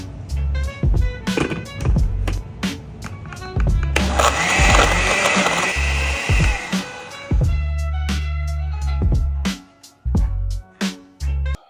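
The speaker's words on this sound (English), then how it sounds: "we're going to put it in the blender with some cilantro, palm sugar, fish sauce, and lime juice" A kitchen blender whirs loudly and continuously, pureeing green Thai curry with cilantro, palm sugar, fish sauce and lime juice, its motor pitch shifting through a few surges and dips before stopping in short bursts near the end.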